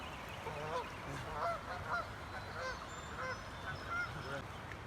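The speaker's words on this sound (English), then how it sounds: "I think we're underneath the geese nest." Geese honk steadily and repeatedly, close by, a dense overlapping chorus of calls over a constant background rumble.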